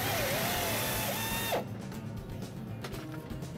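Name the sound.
bolting a bracket in place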